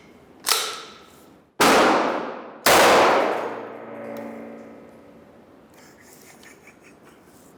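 A 40mm M576 buckshot round fires from a grenade launcher at an outdoor range. Several sharp, loud blasts with long ringing decays sound in close succession and fade into a quiet tail.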